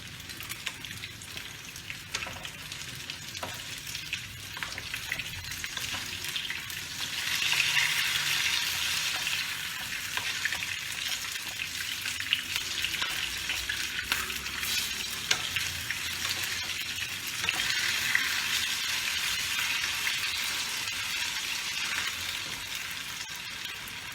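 Katla fish pieces frying in hot oil in a pan, a continuous close sizzle and crackle that swells louder midway and holds steady, with no talking.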